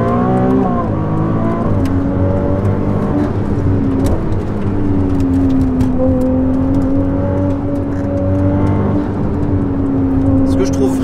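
Turbocharged modern Ferrari V8 burbling and gurgling while driving, a steady, fairly loud engine tone that rises and falls with throttle, with speech over it.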